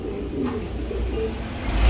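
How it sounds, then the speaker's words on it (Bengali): A pair of pet pigeons coo softly and low, a faint murmuring call close by over a steady background hum, with no talking. "খুব সুন্দর এক পেয়ার কবুতর"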